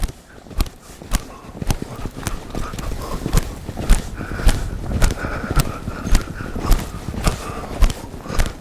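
Steady rhythmic hoofbeats of a horse loping on the ground, close and fairly loud, with an even three-beat cadence running throughout and faint background noise.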